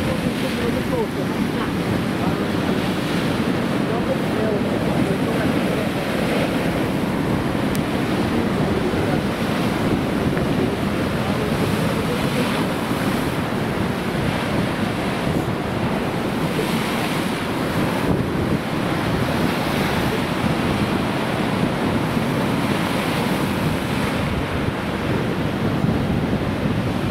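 Sea waves roll in on the Scottish coast during an incoming tide, a constant broad wash of surf mixed with gusty wind buffeting the microphone, loud and close for the whole stretch with no speech.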